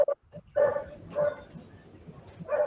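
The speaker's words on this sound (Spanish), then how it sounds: "suena el perro ladrando" Dog barking in repeated sharp bursts, loud and close, intruding over an online class with a few brief pauses between barks.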